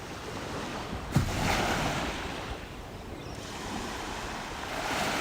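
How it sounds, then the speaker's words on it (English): Water washes steadily against a sheltered Australian beach shore at dawn, a continuous soft surf rush with gentle swells and some wind noise on the microphone, close and moderately loud without any talking. "The sound of the water just washing against the shore is beautiful"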